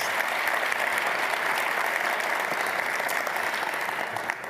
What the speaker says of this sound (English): Another round of applause for Prince EA.